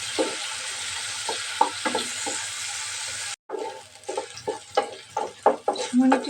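Chopped green chilies, onions and garlic fry in a pan for Korean rice balls, giving a loud, steady sizzling hiss. After a brief cut, the sizzle continues under repeated scraping and clattering stirring strokes.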